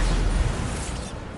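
The Bombarda explosion spell goes off in the video game Hogwarts Legacy. It gives a short, loud, rumbling blast that fills the moment and then fades over about a second.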